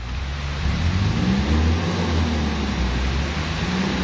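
A tractor engine works while compacting soil on an earthworks job, giving a steady, loud low rumble that rises slightly in pitch around the middle, alone with no talk.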